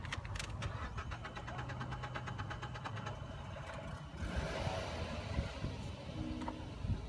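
A 2011 Mazda 3i is started with the key: a few seconds of rhythmic starter cranking, then the engine catches and settles into a steady idle, heard from nearby with no talk.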